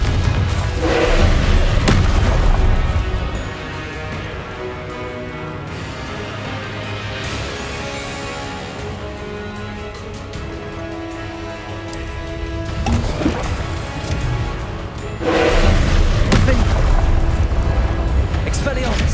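Repeated booming spell blasts from Confringo casting in the Hogwarts Legacy game, loud thuds and bursts over a dense musical and effects bed, with heavy impacts at the start and again near the end.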